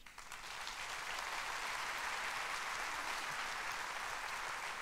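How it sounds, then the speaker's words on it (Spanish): A church congregation applauds, a continuous, fairly soft wash of many hands clapping together, steady and unbroken from start to finish. "Denle un fuerte aplauso al Señor."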